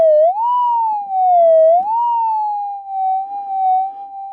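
A Minelab GPZ 7000 metal detector reacting to wet ground gives a steady, loud droning tone that swells and sags gently in pitch, an unbroken wavering hum with faint scuffing underneath and no distinct target beep.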